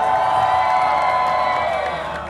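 A crowd at an outdoor charity concert in Głogów Małopolski cheers and shouts loudly in a sustained wall of whoops and voices that tapers off at the end.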